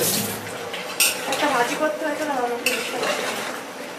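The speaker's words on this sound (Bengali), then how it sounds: "হ্যাঁ, ঢেঁড়স ভাজি করছি শ্রাবণ ঢেঁড়স ভাজি" A spatula stirs okra stir-fry in a metal pan up close, with repeated scraping and clinking strokes over a soft background sizzle.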